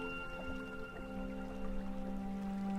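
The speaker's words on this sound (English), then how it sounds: "Waterfall." A waterfall sound effect in a short film, a soft continuous rush of falling water with faint dripping and splashing detail, steady and low in level beneath a sustained tonal hum.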